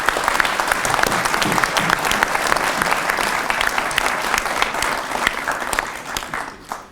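Sustained, dense applause from a crowd at a mayor's New Year address in the village of Reuilly, honouring local gendarmes and firefighters; steady clapping that fades slightly at the end.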